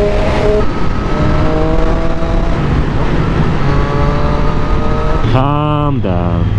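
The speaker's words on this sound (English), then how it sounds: "I'm gonna go for an overtake once it's clear." A Triumph Street Triple motorcycle accelerates to overtake on a bumpy road: a loud, close, steady engine drone with wind noise, then a sharp rising rev climb near the end.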